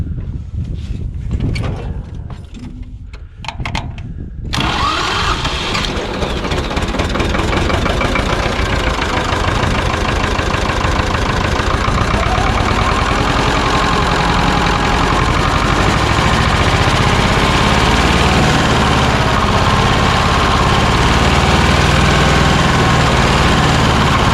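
An Ursus C-330 Turbo tractor's turbo diesel engine starts after a few seconds of quiet clatter, then runs loudly and steadily with a rising, whistling turbo whine.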